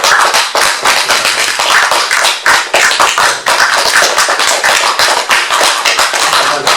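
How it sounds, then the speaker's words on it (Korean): A church congregation applauds at a Sunday service during a scholarship presentation, with sustained loud, dense clapping from many hands for several seconds and no speech. "우리 장학금 전달할 때 여러분들 큰 박수로 격려해 주시죠."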